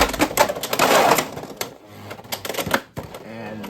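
Beyblade X spinning tops in a stadium, a Shark Scale top battling Pegasus Blast: rapid rattling clicks and clashes with fast metallic scraping, mixed with an excited voice calling the battle.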